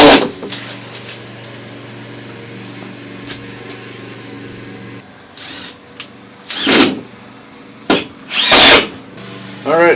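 A power drill briefly whirs as it drives screws into a utility shelving board, with short bursts near the end after a steady mechanical hum.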